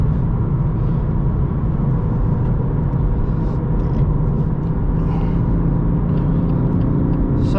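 A BMW M2 Competition drives on a road, its engine a steady, loud, low drone with tyre rumble, heard continuously from inside the cabin.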